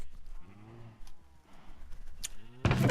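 Cattle lowing in a two-level farm pen in Minecraft, with low drawn-out moos and bleat-like calls repeating through the clip, then a sudden loud burst of noise at the very end.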